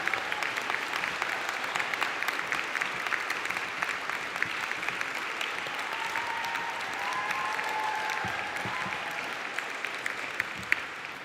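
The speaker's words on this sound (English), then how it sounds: "Give a warm round of applause to this graduate group." Sustained applause from a seated audience at a university conferring ceremony for a Faculty of Science and Health graduate group, steady and even throughout with no talk over it.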